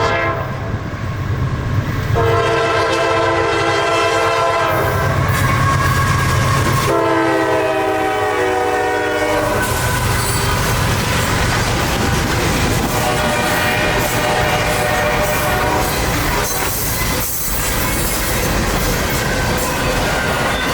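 CSX IO32 intermodal freight hauling Tropicana cars passes close and loud, with repeated horn blasts over the heavy rolling roar of the wheels and wagons.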